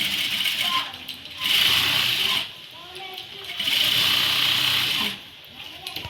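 An electric sewing machine stitching a churidar top runs in two sustained bursts of whirring, separated by brief pauses, close and fairly loud with no speech over it.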